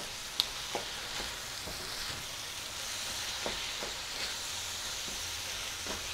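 Chili ingredients of beans, tomatoes and garlic are stirred together in a skillet, with a steady sizzle of frying running underneath and scattered scraping, clacking strokes of the spoon against the pan, close and fairly quiet.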